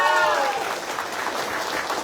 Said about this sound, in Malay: Bagi sorakan pada mereka.